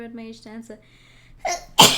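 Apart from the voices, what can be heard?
sneeze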